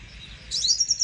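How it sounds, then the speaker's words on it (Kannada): A flycatcher sings a short run of bright, clear chirps that starts halfway through, close and fairly loud over a quiet low background hum. "ಫ್ಲೈ ಕ್ಯಾಚರ್ ಅಂದರೆ ನೊಣ ಹಿಡುಕ ಪಕ್ಷಿಗಳು ಮಧುರವಾದ ಗಾನಗಳನ್ನು"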